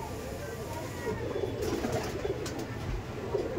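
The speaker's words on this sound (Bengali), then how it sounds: "এই দেখুন একদম বাচ্চা পায়রা দাদা, সিলেটি কামাগার, কামাগারের বেবি" Baby Sylheti Kamagar pigeons coo in low, rhythmic bursts that are fairly faint and close, with a soft background hum throughout.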